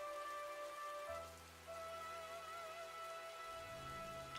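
Rain ambience from the video game Old School RuneScape, a soft continuous patter of drops on surfaces, faint and steady with quiet tonal game sounds beneath, no talk.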